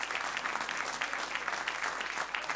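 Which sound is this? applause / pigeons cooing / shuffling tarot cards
applause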